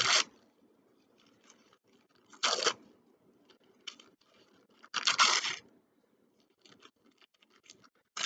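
Paper is torn into small pieces in three sharp, loud rips separated by quiet pauses, with faint rustling and handling between them.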